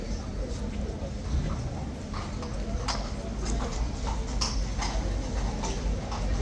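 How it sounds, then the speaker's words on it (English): Horses' hooves clip-clop into a yard at Horse Guards, a loose run of hard taps over steady outdoor crowd and traffic noise, moderately close, with faint voices in the background. "The two other horses are coming back in the yard."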